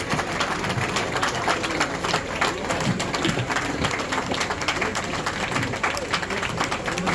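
A crowd at a police line event in Bhagalpur claps continuously, a dense rattling applause with scattered sharper claps throughout and faint voices mixed in.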